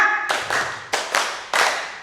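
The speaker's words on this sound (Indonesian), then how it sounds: "Coba ulangi, tepuk 5" A group of people claps five times together, the sharp bursts close and loud with small gaps that make the rhythm slightly uneven.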